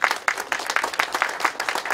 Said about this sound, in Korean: 네, 박수가 필요합니다.